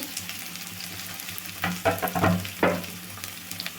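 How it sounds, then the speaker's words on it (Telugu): Chopped onion and curry leaves fry lightly in hot oil for a Kalan masala snack, giving a steady soft sizzle with a few louder bursts of stirring and clatter near the middle, with no talking. "ఇది ఎక్కువసేపు వేగాల్సిన అవసరం లేదండి లైట్గా వేస్తే సరిపోతుంది"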